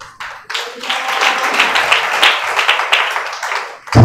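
A large audience claps at a spoken gathering, a dense, loud burst of applause that swells quickly and holds steady for several seconds before an abrupt thump cuts in at the end.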